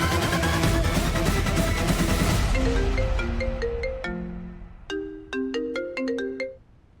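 A mobile phone ringtone plays alone, a bright electronic melody of repeated stepped tones that rings loudly in a short phrase and then drops into quieter, echoing chime notes.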